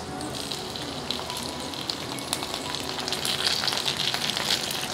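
Water hits a hot pan of pan-fried tofu-skin rolls wrapped around pressed tofu and asparagus, setting off a steady, dense sizzle that hisses continuously and swells slightly louder toward the end, with no voices.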